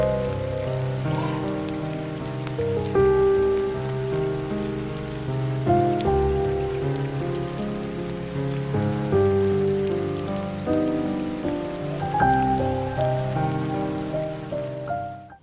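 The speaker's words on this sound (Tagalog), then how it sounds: "Rain in Baguio has its own magic." Steady rain falls in Baguio, a continuous wash of drops heard throughout, with soft melodic tones sounding over it and no voices.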